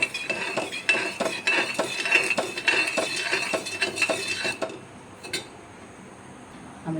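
A spoon stirs sugar, water and cardamom syrup in a pot on a gas stove, clinking and scraping in quick close strokes for several seconds before falling to near quiet, with no voices.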